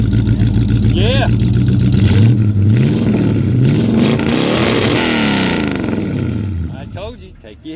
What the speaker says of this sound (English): He's gonna rev it up for you.